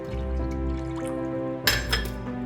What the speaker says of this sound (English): So first we're going to add the water